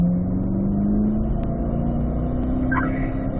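A Corvette driving on a race track during a high-performance driving school session, a steady loud engine drone with slowly rising pitch, heard from inside or close by, without talk.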